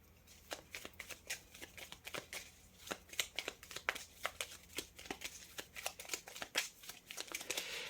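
Tarot cards being shuffled and drawn at close range, with a quiet, steady series of crisp flicks and riffling snaps spread across the whole stretch, with no talking.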